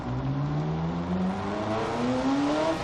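A Ferrari F40 climbs the Col de Turini mountain road, its engine droning and rising in pitch through a long gear, loud and close from inside the car with steady road noise underneath.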